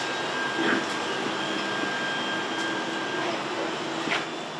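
FDM 3D printers run in a workshop printing face shield frames for medical workers, giving a steady mechanical whir and hum with faint higher motor whines throughout.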